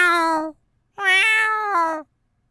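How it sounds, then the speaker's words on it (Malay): A cat meows twice outdoors at night, first a short call and then a longer drawn-out one after a brief pause, loud and close with no other sound around it. "Pukul 1 pagi, dengar kucing mengiau."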